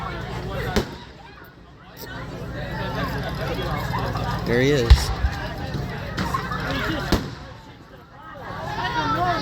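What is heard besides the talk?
carnival fireworks exploding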